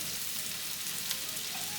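Winter squash frying in a pan with salt, a steady, even sizzle close by with no distinct stirring strokes, continuous and fairly quiet throughout.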